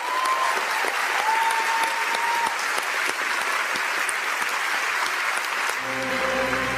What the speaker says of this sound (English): Look at what a nervous applause that is.